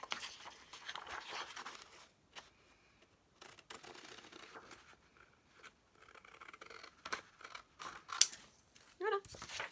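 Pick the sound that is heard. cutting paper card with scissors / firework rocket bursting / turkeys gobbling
cutting paper card with scissors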